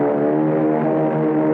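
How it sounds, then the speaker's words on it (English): Propeller airplanes taking off in an Underdog cartoon, a steady droning engine hum with a layered harmonic buzz, loud and close, holding evenly throughout with no talking over it. "My 3 airplanes will take off and attack from the sky."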